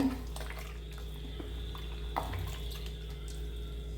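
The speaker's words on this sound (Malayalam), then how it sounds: "വെള്ളം കുറവാണ്, അപ്പോൾ ഒന്നുകൂടി വെള്ളം ഒഴിച്ചിട്ട് മിക്സ് ചെയ്യാം." Water is poured into rice flour idli batter and stirred in, giving soft splashes and drips over a steady low kitchen hum, fairly quiet with no talk.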